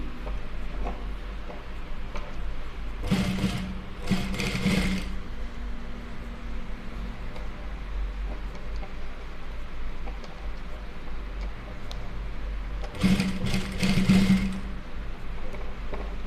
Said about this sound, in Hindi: किनारी पर ही सिलाई मारना है